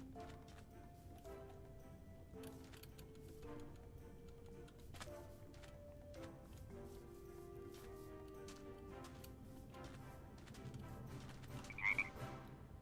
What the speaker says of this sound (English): I hear tree frogs